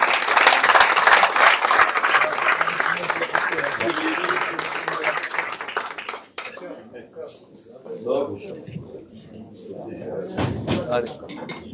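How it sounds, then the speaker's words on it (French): Applause from the audience at a boxing press conference fills the first six seconds densely and loudly, then drops to scattered claps and crowd murmur with talk over it. "je voudrais qu'on l'applaudisse vraiment parce qu'il le mérite"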